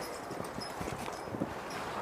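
A team of horses hitched to a double tree for skidding logs in a timber-felling setting steps along with soft, irregular hoof clops over a steady outdoor background hum; no talk.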